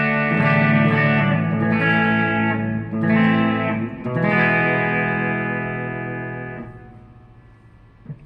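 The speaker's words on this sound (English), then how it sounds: "Standard 65 deluxe reverb with my standard delay and reverb in the FX loop at about 2" Electric guitar on the bridge pickup played through a 65 Deluxe Reverb amp, with delay and reverb in the effects loop: loud sustained chords ringing out over about eight seconds, briefly re-struck, then decaying with a reverb tail.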